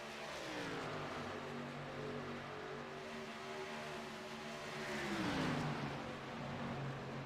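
Race cars run close together on a track in a three-car pack, a continuous engine drone with rising and falling pitch as they pass, moderately distant and without commentary.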